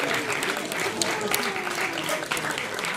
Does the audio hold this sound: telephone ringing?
no